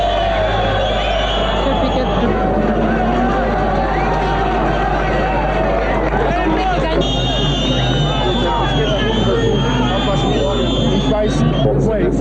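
A large crowd at a 1983 Formula One race on a damp race day makes a dense, continuous roar of babble and cheering. Commentary-like voices and shrill tones run over it at high, constant loudness.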